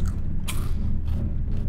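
Biting into crunchy cooked pork intestine (bituka), a Filipino offal dish: a few close, loud crunches and moist chewing sounds, with no talking.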